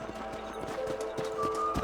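Horse hooves clip-clopping in the Western video game Red Dead Redemption, a steady rhythmic trot of a mount under game music, with no talk.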